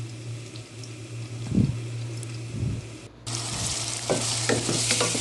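Onions frying in a pan for a mutton masala, a steady broadband sizzle with scraping stirs throughout, turning louder and brighter partway through, with no talking.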